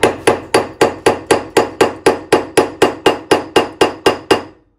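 A hammer taps an upper ball joint into the cut knuckle of a Cadillac CTS-V drift car, about fifteen quick, evenly spaced sharp metallic strikes, close and loud with no talk.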